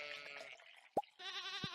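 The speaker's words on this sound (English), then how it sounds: "Got ourselves some sheep as well." Sheep bleat in the farming game Stardew Valley: a bleat, then a single soft plop, then another short nasal bleat, clear and isolated.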